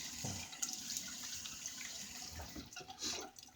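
Water runs steadily from a tap into a sink to wet the face before a shave, a continuous close splashing flow with a few louder surges and no talking.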